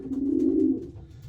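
A pigeon cock coos once in a close, low, rounded call lasting under a second, followed by quiet loft background.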